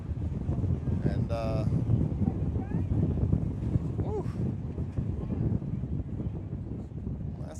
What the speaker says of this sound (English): that's the stoutest gust of the day